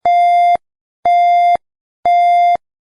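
A school shelter-in-place alarm: three loud, identical electronic beeps, each about half a second long, sound at a regular one-second rhythm with silence between them.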